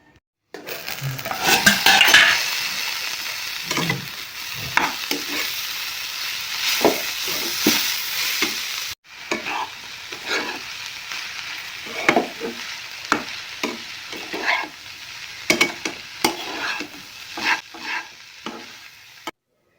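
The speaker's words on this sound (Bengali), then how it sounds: "তো দেখো আমি ভালো করে নাড়িয়ে চাড়িয়ে এখন ঢেকে দেবো অল্প" Cabbage curry with fish stirred in a pan, with a sizzle and repeated scrapes and knocks of the utensil against the pan, loud at first, then a brief cut to quieter intermittent stirring.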